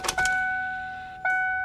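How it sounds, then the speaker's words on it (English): Steady electric whine of a fuel pump priming in a flooded, supercharged 347 stroker Mustang GT, two sustained tones holding for over a second, a short break, then the hum resuming, with a brief clatter at the start. "I hear the fuel pump."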